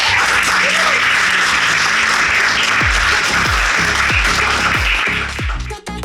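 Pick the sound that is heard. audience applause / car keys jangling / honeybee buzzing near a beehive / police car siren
audience applause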